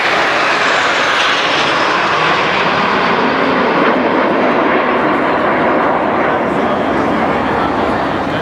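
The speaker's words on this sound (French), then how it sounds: "Sur votre droite, la patrouille en formation Rafale tonne aussi." Patrouille de France jets in formation at the La Ferté-Alais air show, a loud continuous roar of jet engines passing overhead and filling the air, with an announcer's voice faintly under the noise.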